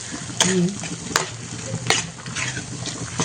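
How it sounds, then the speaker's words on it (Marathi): Masala sautéed in oil until the oil separates, for a Maharashtra-style chicken rassa, sizzles steadily while a spoon scrapes and stirs the pan in several sharp strokes. "हा मसाला अगदी तेल सुटेपर्यंत आपल्याला परतायचा आहे."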